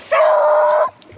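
A hunting dog gives a single drawn-out yelping bark, loud and close, with the start of another at the very end.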